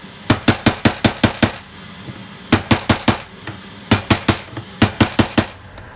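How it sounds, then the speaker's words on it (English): A dead blow hammer taps an oil seal into a 1981 Yamaha G1 golf cart, in three bursts of six to seven quick, sharp, evenly spaced blows, loud and close. "I actually like the dead blow hammer the best."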